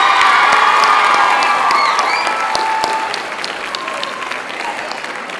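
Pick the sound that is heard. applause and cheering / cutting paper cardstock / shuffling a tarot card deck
applause and cheering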